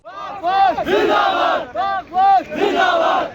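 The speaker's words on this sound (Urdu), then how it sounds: "پاکستان زندہ باد، پاک فوج زندہ باد، کشمیر میں بھارتی مظالم نامنظور کے فلک شگاف نعرے بھی لگائے گئے" A crowd at a marathon ceremony in Skardu shouts patriotic slogans in unison, with loud rhythmic bursts of chanting separated by short pauses.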